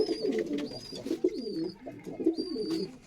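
Madrasi pigeons coo repeatedly in a loft, throaty rolling calls close by and overlapping in a steady rhythm, with faint higher chirps in the background.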